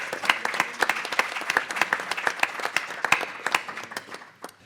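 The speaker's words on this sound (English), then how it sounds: "Please give a round of applause to Ian Hexter," Applause from an audience at an evening agile question-time panel event, welcoming the chair: steady, moderately loud clapping from a modest crowd that thins out and fades toward the end.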